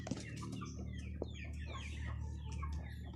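Chickens cluck in a small backyard farm, a steady mix of soft clucks and short calls from several birds close by, with a low constant hum underneath and no talk.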